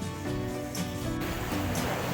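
Sea waves wash ashore at a beach club in Odesa, a steady broad rush of surf with faint swells rising and falling, heard alone without talking.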